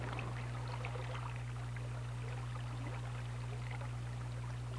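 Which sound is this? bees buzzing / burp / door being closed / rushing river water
rushing river water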